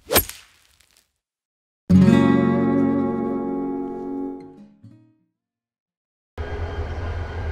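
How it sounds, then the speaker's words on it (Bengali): The Suborno Express, a Bangladesh Railway intercity train between Chattogram and Dhaka, produces a sharp knock, then a loud sustained tonal drone that fades over about three seconds, followed after a silent gap by steady rumbling running noise. "এটি সুবর্ণ এক্সপ্রেস ট্রেনের বর্তমান অবস্থা"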